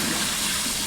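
Water gushes steadily over raw chicken being rinsed for curry chicken, a loud continuous splashing wash lasting under a second with no voices.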